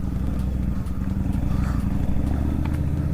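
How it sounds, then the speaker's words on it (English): A Harley-Davidson V-Rod motorcycle rolls off on an Alaska road, its engine a continuous deep rumble heard up close from the rider's position, with no voices over it. "we're gonna go for a quick ride just to test the gear and to get out"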